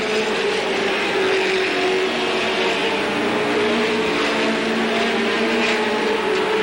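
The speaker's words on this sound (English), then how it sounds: "J.R. Bickle trying to get by Steve Arndt as the gunner goes by on lap number 16." Late model stock cars race on an oval track, a dense continuous roar of engines that swells faintly as the pack goes by, heard without talk.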